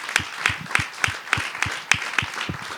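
A church congregation claps in a steady, evenly spaced rhythm to welcome a newly baptized member, each clap crisp and distinct with a quiet hum beneath.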